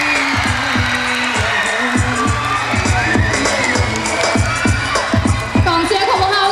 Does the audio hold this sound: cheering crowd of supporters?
yes